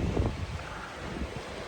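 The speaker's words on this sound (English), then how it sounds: "Waves are getting to about 6 feet, maybe some up to 8 or 9 feet every now and then." Steady wind and sea wash at sea aboard a sailboat crossing from Tunisia to Sardinia in waves of about six to nine feet, with low rumbling thumps of water against the hull and constant microphone wind.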